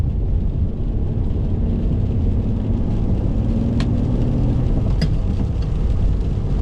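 Ferrari 599 with a gated manual conversion driven in the rain with early upshifts, a steady loud engine drone and road rumble throughout, with a couple of brief sharp clicks as gears change.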